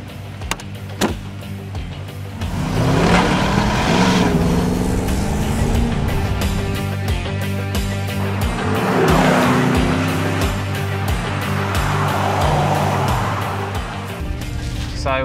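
Land Rover Defender fitted with a Corvette LS3 V8 and automatic gearbox being driven, engine roaring loudly as it revs up and settles through gear changes, with tire noise and no talking.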